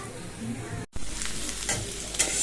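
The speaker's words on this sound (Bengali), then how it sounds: "এখানে উচ্ছে ভাজা বসিয়ে দিয়েছি" Round slices of bitter gourd sizzle and crackle as they fry in a pan, a soft close hiss with light stirring and a short break near the start.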